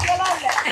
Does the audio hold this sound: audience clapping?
yes